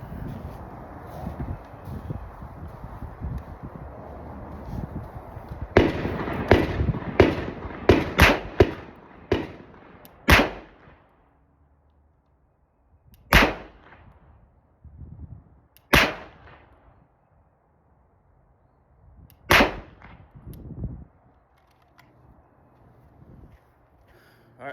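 Shots from a Shadow Systems XR920 pistol fired at a range target: a quick burst of several sharp cracks, then single loud reports spaced seconds apart with echo, over faint background noise.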